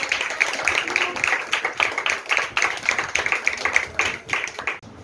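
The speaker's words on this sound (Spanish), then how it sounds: "Recimámosle con un aplauso" A class of ninth-grade students applauds a presenting team in a school forum, a moderately loud patter of individual claps forming uneven rhythmic bursts that thin out and fade near the end.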